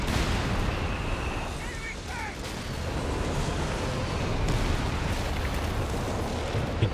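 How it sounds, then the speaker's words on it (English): Howitzer artillery fire in a Company of Heroes 3 four-versus-four match, a dense wall of battlefield rumble with distant booms and shell bursts rolling continuously, loud and unbroken, while a faint voice comments underneath. "The howitzer's targeting the 88."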